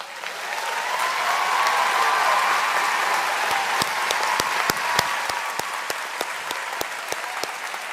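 A large commencement crowd gives sustained, dense applause for first-generation college students at a college graduation ceremony. The clapping is steady and full throughout, with a few sharp, nearby claps standing out toward the end.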